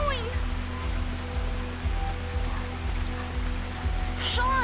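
Steady rain hisses in Life is Strange 2, a constant wash of falling water with low rumbling underneath and brief vocal sounds over it.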